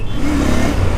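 A Royal Enfield Continental GT 650 motorcycle pulls hard in first gear on the road, its engine droning loud and close in a continuous rising roar.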